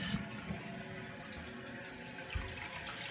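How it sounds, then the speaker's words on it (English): Toilet cistern refilling from the water supply after the valve is turned on, a quiet steady hiss of running water close by, with a couple of faint knocks and no talking. "So what we're going to do now is turn the supply on, and we'll watch the tank filling up."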